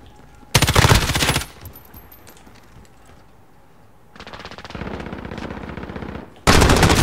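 Call of Duty Modern Warfare multiplayer M13 rifle fire: a loud rapid burst, a quieter stretch, then a longer sustained burst and a final loud burst at the end.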